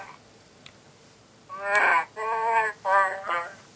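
A voice imitating Wookiee speech, growling a short phrase meaning a polite request about a seat on public transport: three or four throaty, moaning bursts with a rough harmonic texture, close and alone after a brief quiet lead-in.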